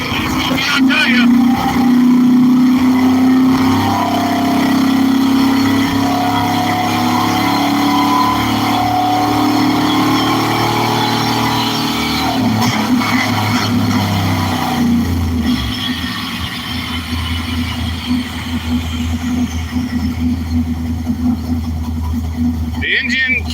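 Loud, steady roar of a race car engine with about 514 horsepower, run on a dyno with a reused Edelbrock kit harness. The noise holds for the whole stretch while people talk over it.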